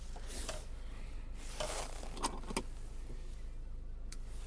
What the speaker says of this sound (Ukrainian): Два ключа з автомобілем.